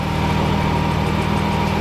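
Close, steady idle of a 2016 Jaguar F-type S engine, a low rumbling throb with a regular pulse that holds constant for the whole stretch, with no voices.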